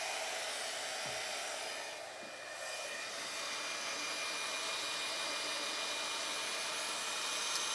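A heat tool blows a steady loud hiss of hot air while melting embossing powder for ombre embossing, continuous throughout with only a brief dip, no talking.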